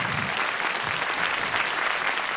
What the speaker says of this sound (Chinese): 来，大伙鼓鼓掌